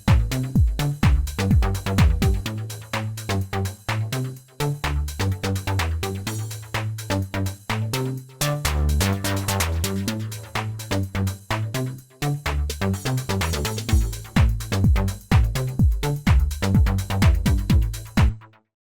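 An Alpha Juno's built-in rhythmic arpeggiator drives a fast, choppy house bass pattern of stepping staccato notes that keeps running, bright and prominent, with no talking.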